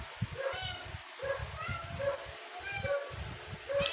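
A cat meows repeatedly in short, regular calls, roughly one every half second to second, close and moderately loud over a steady background hum with low rumbling noise.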